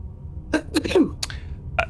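A single quick sneeze bursts out close by, followed by a few soft breathy sounds and a brief voice.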